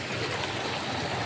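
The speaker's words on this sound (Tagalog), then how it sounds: "Lakas daw ang tubig" Strong, rushing water flows steadily and loudly, a dense continuous wash filling the whole short moment with no voices.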